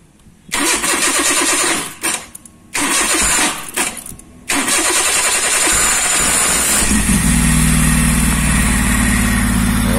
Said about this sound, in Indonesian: Akan saya coba apakah nyala mesinnya.